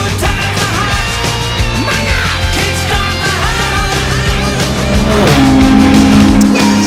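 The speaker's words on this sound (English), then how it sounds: "So Ryan's actually in car now for the first time with the laptop in the passenger seat" Car being driven on the Navarra race track, with a steady engine drone and some tire noise, loud and close, building in pitch toward the end.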